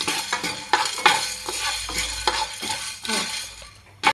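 Dry red chilies and peppercorns roasting in a pan for Mangalore-style chicken sukka, stirred with a spoon in irregular scraping strokes over a light sizzle, close up and without speech.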